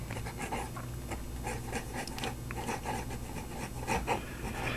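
Leonardo MZG fountain pen with an elastic nib writing on slightly coarse Fabriano paper, faint scratchy strokes in short irregular bursts, close and quiet, no talking.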